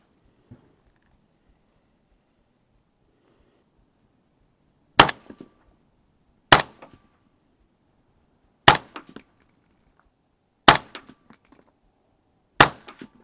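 Five sharp, loud rifle gunshots firing NEMO range ammunition at a target, spaced about two seconds apart, each followed by brief echoes and faint clinks against a quiet outdoor background.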